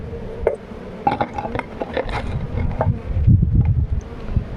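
Steady buzzing of honeybees close by at an abandoned apiary, with scattered clicks and knocks rising over the drone throughout.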